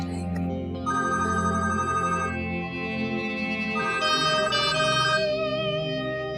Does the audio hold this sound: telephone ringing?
yes